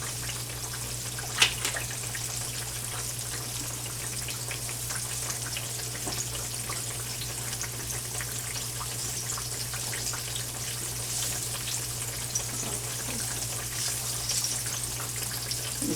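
Green tomatoes fry in a pan with a faint, steady sizzle and light crackle running throughout, joined by a low constant hum.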